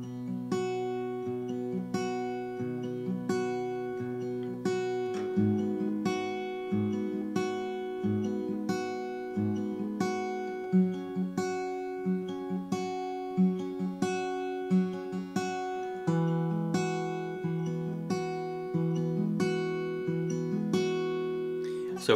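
Acoustic guitar plays a finger-picked pattern for a worship song at a moderate tempo, steady plucked arpeggios moving through chord changes, close and clear with no talking.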